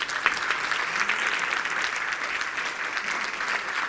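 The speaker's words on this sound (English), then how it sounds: "I think we should give a round of applause to young people" An audience at a healthcare innovation summit applauds with dense, even clapping that holds at a steady level for the whole stretch, with no voices above it.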